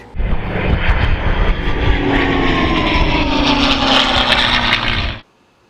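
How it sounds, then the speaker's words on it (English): An air compressor runs loud and close, a steady droning roar for about five seconds before cutting off abruptly. "Shut up, compressor."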